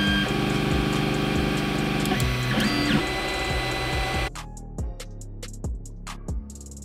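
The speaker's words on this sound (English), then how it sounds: "how the printer actually works, so you'll see some of that" A 3D printer printing a fishing lure, whirring and stepping, with buzzy motor tones and mechanical clicks. It then shifts to quieter, sparser ticking and knocks.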